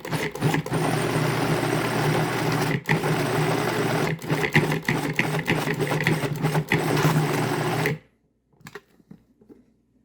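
An electric mixer whirs steadily and close, blending Hawaiian fishcake ingredients, its motor holding a constant hum with brief dips before cutting off abruptly near the end, leaving near silence.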